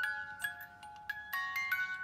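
A Stampin' Up light-up music box plays a tune, its tinkling notes chiming in a steady melodic run, faint and close with no talking.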